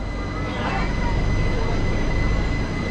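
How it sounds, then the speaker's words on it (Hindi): The Pataliputra Express running past on the line, a steady dense rumble of wheels and carriages with a faint high whine, loud and close for the whole stretch. "इधर साइड है पाटलिपुत्रा एक्सप्रेस जो कि LTT से जाती है पाटलिपुत्रा।"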